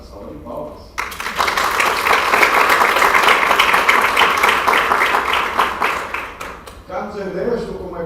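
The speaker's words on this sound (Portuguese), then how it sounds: "Uma salva de palmas." A book launch audience in Brazil breaks into applause for a career coach and speaker, a dense, steady round of many hands clapping for about six seconds, starting abruptly after brief talk and fading into talk again.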